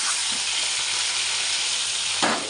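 Pieces of hybrid fish fry in a hot pan with a continuous, loud, close sizzle. A brief stir or scrape near the end adds a short burst of clatter.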